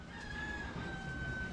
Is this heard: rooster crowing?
yes